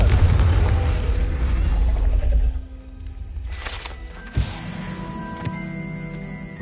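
A Confringo spell explosion in Hogwarts Legacy gives a loud, heavy burst that rumbles and then decays, with a few sharper pops afterward and steady game music tones underneath.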